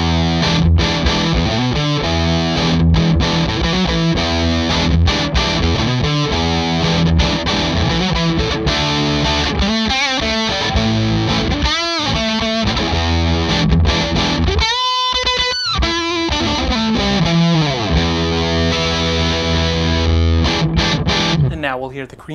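Gibson Les Paul Standard played through a Gibson Super Goldtone GA-30RV amp into a Celestion Vintage 30 speaker, with heavy distortion: loud, continuous chugging chords and riffs with a brief break near the end.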